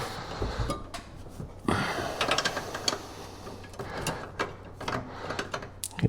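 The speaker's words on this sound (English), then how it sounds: "Just held in with two 15mm bolts. Gotta use a wrench on this one." A wrench works a 15mm bolt loose on the master cylinder brace of a fourth-generation Camaro, giving close, irregular metallic clicks, knocks and scrapes in scattered bursts.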